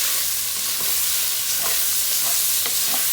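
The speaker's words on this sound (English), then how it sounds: "And then we're going to stir that up." Ground beef being stirred in a frying pan for Haitian-style macaroni gratinée, with a steady soft sizzle and scattered scraping clicks of the utensil against the pan, close and continuous.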